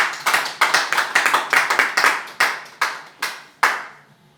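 A church congregation claps in unison during a sermon, a run of sharp, rhythmic hand claps that slow into a few spaced final claps and fade out.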